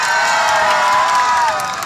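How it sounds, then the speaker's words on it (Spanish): Festival crowd cheering and applauding for the mayor at a harvest fiesta, a loud, dense, continuous wash of noise that holds steady and then eases slightly toward the end. "Un aplauso para el alcalde, por favor"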